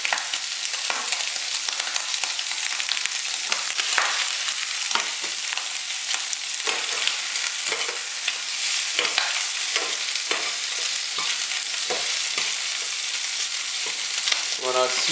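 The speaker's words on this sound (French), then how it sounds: "Voilà, j'ai mes crevettes. Ils sont bien en train de dorer." Shrimp brown in a hot frying pan, their loud, dense, steady sizzle crackling continuously, with occasional stirring scrapes rising over the hiss, close by and with no talking.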